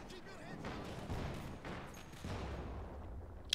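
Rapid machine-gun fire from a tank in a World War II tank-battle video game, a steady rattling burst running continuously at moderate loudness, with a voice talking over parts of it.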